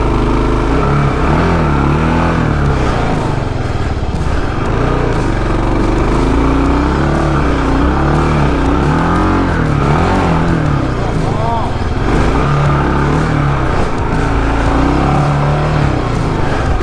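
A 2022 Kawasaki KLR motorcycle engine runs and revs steadily in deep mud on a Nevada adventure ride, loud and continuous throughout with people talking over it.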